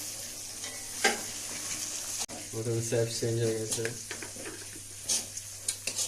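Chicken fries in a pan on a low gas flame, a continuous sizzle broken by scraping, clinking stirring strokes, while a person talks over the cooking.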